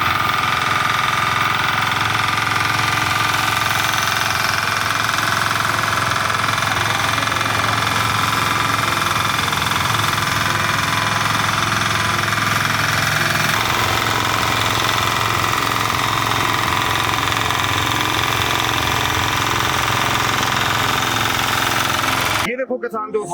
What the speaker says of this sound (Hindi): ये जो एक पावर टिलर मैंने डीजल मॉडल आपको दिखाया